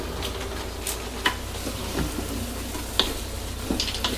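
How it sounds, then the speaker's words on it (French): Vegetable mix dropped into sizzling minced meat in a frying pan, with a steady close fry and scattered clicks of stirring utensils against the pan. "je rajoute mon mélange de légumes directement dans mon hachis"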